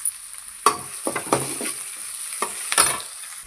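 Curry leaves and green chillies sauté in hot oil for fried rice, a soft steady sizzle broken by several sharp scrapes and clatters of a spoon stirring the pan, close and alone.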